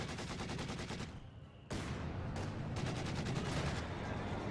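Sniper rifle fire aimed at a retreating squad during a Company of Heroes 2 match between Ostheer and Soviet forces, set amid a dense, continuous roar of battle with rapid repeated gunfire, a brief lull, then a loud burst resuming.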